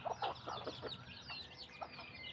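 Hens cluck in a farmyard where mother hens are tending small chicks at feeding time, a series of short, close clucks in quick bursts with a steady outdoor hum beneath.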